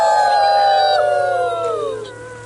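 Young schoolchildren mimicking coyotes, a loud sustained group howl of several voices gliding downward over about two seconds before trailing off.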